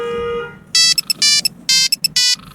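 A phone ringtone bursts out loud and close in a repeating electronic pattern of long and short beeps, following a brief steady tone at the start.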